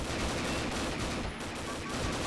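Gunshots in the online shooter Combat Arms, a dense run of rapid firearm reports that keeps going at moderate level, with no clear talk over it.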